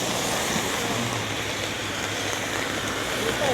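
Rain falls steadily outdoors, a constant soft hiss that stays fairly faint and even throughout, with no distinct drops standing out.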